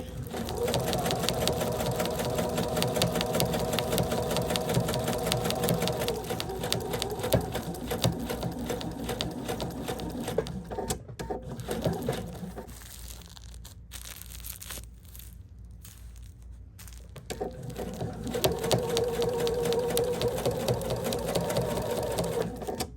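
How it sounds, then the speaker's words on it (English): A sewing machine stitches Sherpa fabric with a loud, rapid motor whir and needle chatter. It runs steadily, stops briefly partway, then starts again. "Definitely have to sew slower with the Sherpa fabric."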